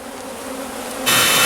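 Dense swarm of honey bees buzzing loudly and close during a bee removal in Milford, Texas, a steady droning hum that jumps sharply louder near the end.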